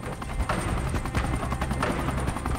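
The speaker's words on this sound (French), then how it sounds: "deux gazelles décollent de Mopti Sévaré" Two Gazelle helicopters of a French special forces regiment take off from Mopti Sévaré, with rapid rotor blade chop thudding steadily and loudly over a continuous turbine whine.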